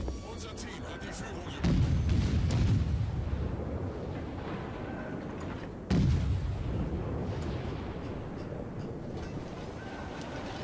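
Naval cannons firing in World of Warships, two heavy booming salvos about four seconds apart, each with a long rumbling decay under a continuous roar of battle ambience, with someone talking over it.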